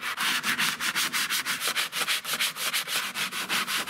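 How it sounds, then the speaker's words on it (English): A foam sanding block scrubs back and forth across an arcade cabinet's laminate, a steady rapid rhythm of close, rasping strokes about six per second with no talking. "I use a foam sanding block"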